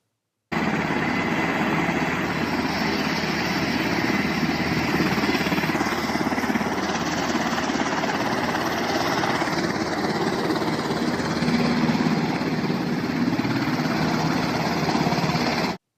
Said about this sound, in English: They drive the Black Hawk around the runway because they don't know how to fly it yet.